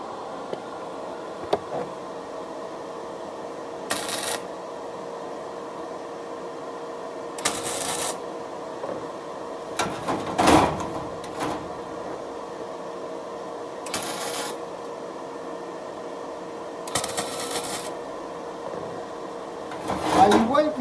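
A flux-core weld with an EVOMIG-220 welder on structural steel tube comes as several short, separate bursts of harsh arc crackle over a low background hum, spaced a few seconds apart like tack welds.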